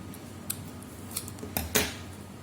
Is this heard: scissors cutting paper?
yes